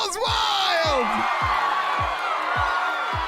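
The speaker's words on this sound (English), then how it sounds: "the crowd goes wild" Crowd cheering at the finish of a marble race in the game Marbles On Stream, loud whoops and yells over a rhythmic thumping beat, with a person talking excitedly over it.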